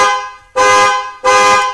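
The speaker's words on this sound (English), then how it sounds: "The horn will honk." A 2008-2010 Ford Super Duty F250 truck horn honks twice, loud and close, each blast held about half a second with a short gap between, and no voices.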